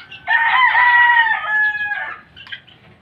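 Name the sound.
young gamecock stags clucking and crowing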